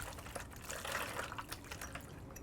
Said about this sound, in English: Now we'll take our marinade and just pour this over.